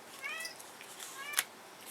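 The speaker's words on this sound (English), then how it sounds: "There's a cat, if you couldn't hear that" A cat meows a few times indoors, faint and slightly distant, with short rising-and-falling calls and a brief sharp noise near the end.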